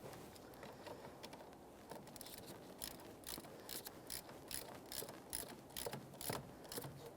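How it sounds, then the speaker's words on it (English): A ratchet tightens a 10mm mounting nut while a wiper switch is fitted on a 2008-2017 Mitsubishi Lancer, giving a fast, steady series of soft clicks close by with no talk. "tighten your 10mm mounting nut until this is completely"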